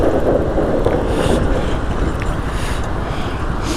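A vehicle rumbles across a bridge on a mountain road in Ladakh, a loud continuous low-frequency drone mixed with wind buffeting on the microphone, with no talking.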